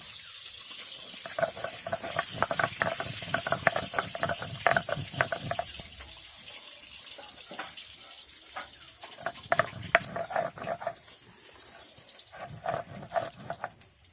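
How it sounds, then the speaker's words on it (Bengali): Five dried red chilies are ground into a paste with steady, rhythmic scraping strokes that repeat closely, pausing briefly midway, with no talking. "এবার আমি শুকনো লঙ্কা পাঁচটা বেটে নেব"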